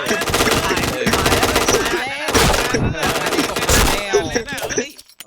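Dense bursts of automatic gunfire and explosive effects in a shooter video game, loud and nearly continuous with brief gaps, layered with music-like game sounds.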